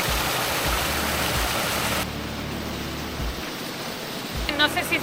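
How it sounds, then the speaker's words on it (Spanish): A small trickling stream of whitish water at a Rotorua volcanic geothermal site, a steady broadband rush close by that drops slightly in level partway through, with faint sounds near the end. "el mini cascadita esta de este chorrito de agua"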